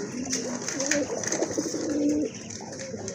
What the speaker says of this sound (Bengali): এখানে কিন্তু আরেক জোড়া কিউট কবুতর আছে